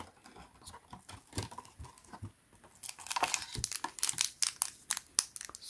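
Clear plastic case for a JILAE Cosmetics exfoliating body scrub set being handled up close, giving soft crinkling and tapping at first, then louder, busier plastic crackles and clicks in quick irregular bursts, with no talking.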